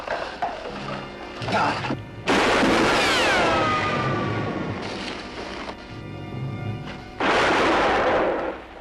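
Gunfire in a western TV show rings out in several loud, sharp bursts, one trailing off into a descending ricochet whine, with dramatic background sound between shots.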